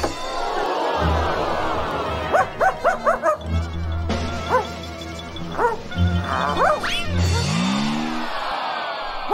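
Circus dogs bark in quick bursts, a run of sharp yips clustered together, with some background noise and a brief whimpering tone.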